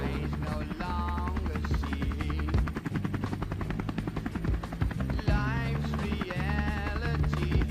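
A U.S. Navy H-3 Sea King helicopter thumps with steady, loud rotor beats and a whining turbine drone, heard close and continuous throughout.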